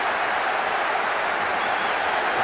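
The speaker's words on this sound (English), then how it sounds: "Crowd giving both manager and players some serious stick." Crowd noise from a PES 2014 football video game stadium, a loud, steady broadband roar of fans jeering at the manager and players, continuous throughout with no clear individual voices.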